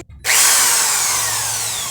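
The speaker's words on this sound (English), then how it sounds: "Are you guys ready for the drill?" Power drill running at home while cleaning and organizing, starting after a brief silence and spinning steadily, loud and close with a high whine that slowly winds down.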